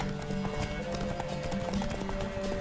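Rhythmic hoofbeats from a horse in The Witcher 3, moderately loud and steady over game music and background ambience.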